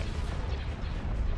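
Artillery fire in the Fall of the Republic mod of a war video game, a low, rumbling boom with heavy sustained bass rolling through a short stretch of battle noise.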